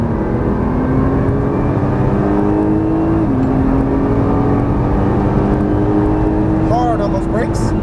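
A Nissan GT-R engine pulls hard under throttle on a race track, a steady loud drone rising slowly in pitch with a brief dip midway, while a driving instructor talks throughout.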